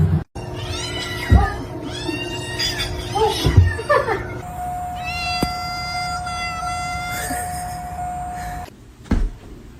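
A domestic cat meows in a few drawn-out, wavering cries close by, with brief rustles and knocks between them and a held tone near the end.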